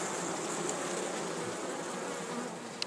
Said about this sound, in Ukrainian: А медок таки бджолки носять.